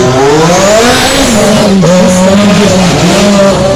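A Ferrari race car at full throttle on a mountain hill-climb course during a rally in Korczyna, its engine note loud and close, climbing and dipping in pitch as it revs and shifts through the whole stretch.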